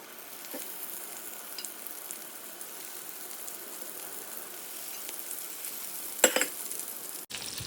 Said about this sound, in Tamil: இப்போ நம்ம கத்திரிக்காயெல்லாம் எடுத்து வச்சிடலாம். அப்படியே ஒன்று ஒன்றா எடுத்து வச்சிடலாம்.